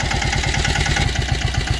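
A Jyoti three-wheel sanedo tractor pulling a five-tine harrow runs at a loud, steady, close chug with a rapid rhythmic thump and no talking.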